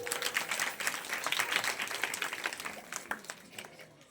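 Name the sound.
audience applause at a discourse event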